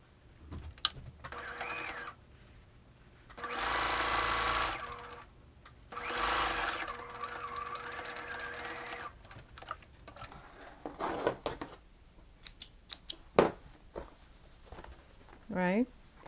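Sewing machine stitching patches of old denim jeans together, running in a few sustained bursts with pauses, while a person talks around the noise.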